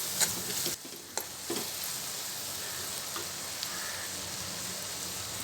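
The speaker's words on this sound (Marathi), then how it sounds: "थोडा शिजेपर्यंत आपण याला थोडं हलवत राहायचं" Masala for a Malvani clam curry sautéing in a pan, a steady low sizzle running throughout, with a couple of spoon knocks near the start.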